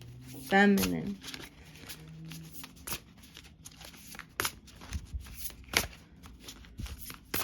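Soft riffling and shuffling of tarot cards, brief clustered flicks repeating through the clip, with a short voice-like sound near the start.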